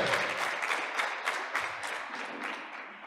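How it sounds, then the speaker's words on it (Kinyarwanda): A church congregation claps together in a dense, sustained round of applause, steady and moderately distant throughout. "Tumukomere amashyi ijambo ry'Imana."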